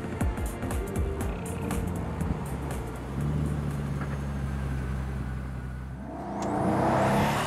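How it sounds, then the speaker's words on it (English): A Pagani Huayra supercar accelerates down the main straight of a track, its engine note rising as a whirring drone that builds, then swells louder as the car nears at the end. "As the Huayra rockets off down the main straight, the flaps are kept down"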